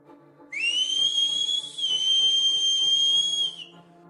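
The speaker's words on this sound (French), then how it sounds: "Au loin, haut dans les landes, le sifflement rappelle la bête immonde" A single long, high whistle rises sharply, holds steady with a slight dip for about three seconds, then cuts off, eerie and piercing over a faint low drone.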